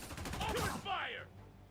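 Rapid gunfire bursts in the Spider-Man 2 video game, a quick close rattle of shots followed by whooshing, sweeping web-like effects fading out, with game voices mixed in.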